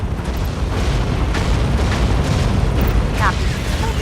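Battlefield combat in Tom Clancy's EndWar, with a steady wash of gunfire and rumbling explosions and booms filling the mix, loud and continuous, with radio-style voices talking over it.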